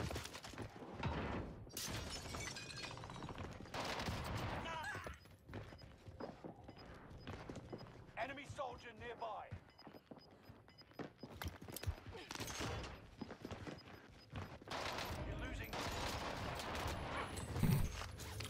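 PPSh submachine gun fire in Call of Duty, heard as dense bursts of rapid shots and clattering impacts throughout, mixed with other battle noise and occasional faint voices.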